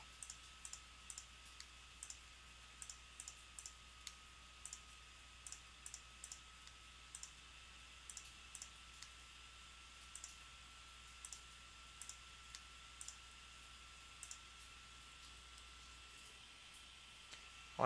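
A computer mouse clicks one click at a time while a photo is retouched, faint, regular, sharp taps about once or twice a second over a quiet steady hum.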